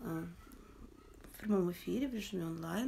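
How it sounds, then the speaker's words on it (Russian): A house cat purrs softly and continuously close by, low and steady beneath a person talking in Russian during an online webinar. "Если вы слышите мурчание, то это вот кто муркает."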